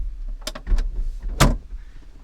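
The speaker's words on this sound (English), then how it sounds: "a trunk release. So let's push that" Trunk release on a 1969 Cadillac Eldorado, heard as a few quick mechanical clunks and a louder latch thump, close and short.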